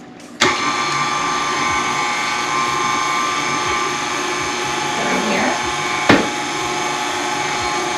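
Electric mixer whirring steadily as it beats bread dough of flour and hot water, a continuous motorized drone with a couple of brief clanks against the bowl.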